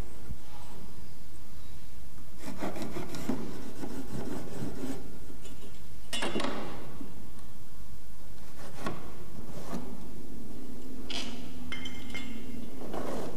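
A pencil or scribe tracing a marking line across a formwork panel on a construction site, with scratchy rubbing strokes and short wooden knocks and clinks coming in several separate bursts.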